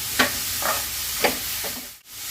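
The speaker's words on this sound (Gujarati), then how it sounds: "હવે આપણે એને ઘીમાં શેકી લઈશું બરાબર" Grated carrot roasting in ghee for carrot halwa over a medium flame, a soft steady sizzle with several brief scraping stirs, close and fairly quiet.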